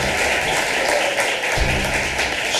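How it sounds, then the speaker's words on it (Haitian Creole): An audience at the Goût et Saveur food festival in Haiti applauds a chef with steady, sustained clapping throughout. "Applaudissements pour chef là, s'il vous plaît."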